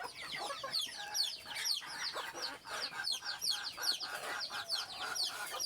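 Domestic desi chickens raised at home cluck repeatedly in a busy, overlapping chorus, moderately near and without speech.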